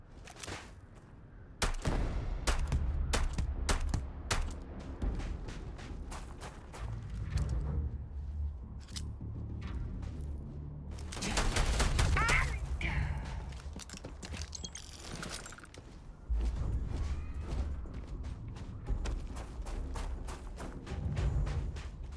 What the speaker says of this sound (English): Let's try that pistol.